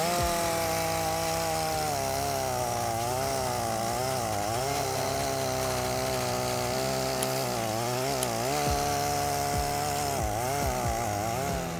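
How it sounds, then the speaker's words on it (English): A 20-inch chainsaw cuts through old oak logs, its engine droning loud and close without a break and rising and falling in pitch as the chain bites into the wood. "Close up of the process of processing old oak logs with a 20-inch chainsaw in a short time with high speed and precision."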